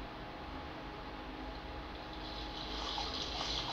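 Water running steadily from a tap in the video game Life is Strange, a continuous soft rushing that swells slightly toward the end, heard alone at low volume.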